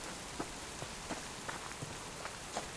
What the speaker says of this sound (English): bunch of rain.